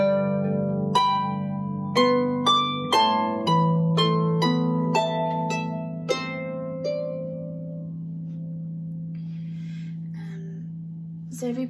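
Manx harp plucks a run of bright notes over a sustained low tone that then shifts to another low note, ringing and fading in a quiet room.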